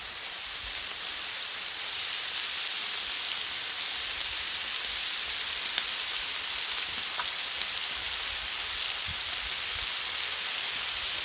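Cheap, very fatty bacon sizzling on a Blackstone griddle, a steady broadband crackle and hiss with scattered pops, close and continuous without talk.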